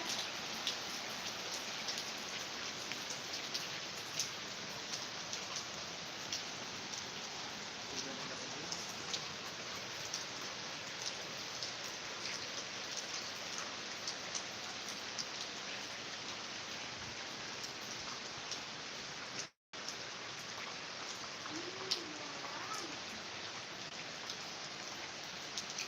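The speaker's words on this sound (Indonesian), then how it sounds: "Inilah hujan di Palangka." Steady rain pours down in Palangka, Indonesia, a dense, even hiss of drops on surfaces that continues without a break from start to finish, with no voices.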